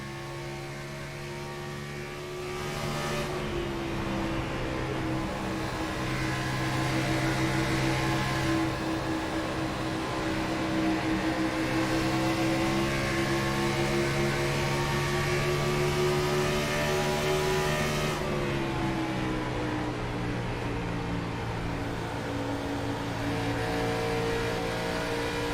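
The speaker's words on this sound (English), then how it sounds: "how about we take a listen of how it is to drive a NASCAR Cup Series stock car around a Darlington Raceway" AJ Green's number 48 NASCAR Cup Series stock car lapping Darlington Raceway, heard from on board as a steady, loud engine drone that rises in pitch along the straights and dips briefly in the corners, with no talk.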